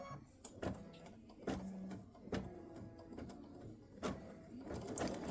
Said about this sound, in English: I'll be back when this rose finishes stitching